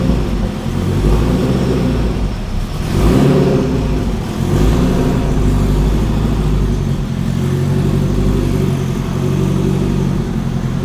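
A Honda Civic Type R engine that has sat for a long time starting up and revving, a loud, steady close-up engine roar with a brief swell in revs early on.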